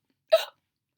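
A single short hiccup voiced by a person imitating a timid, frightened dragon hiccuping, one quick isolated burst in silence.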